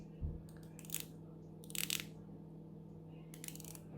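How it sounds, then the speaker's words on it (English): Bezel of an Omega Seamaster 200 dive watch, square-toothed with 60 clicks, being rotated: small, close, faint clusters of crisp ratcheting ticks in three bursts over a quiet background hum. "This is a square toothed bezel that's 60 clicks."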